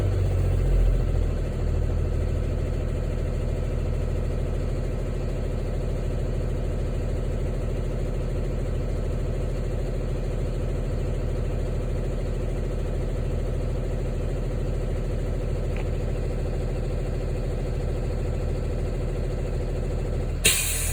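A school bus engine idles steadily for a long stretch during an air brake check, with a brief hiss near the end as the air governor cuts off.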